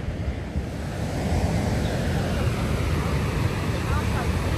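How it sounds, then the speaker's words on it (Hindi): Fast white water rushes over a waterfall near the Canada–US border, a loud, continuous roar that stays close and steady throughout. "काफ़ी तेज़ पानी है यहाँ पे ना, जैसे वो वाइट वाटर पार्क है ना वैसा पानी है तेज़।"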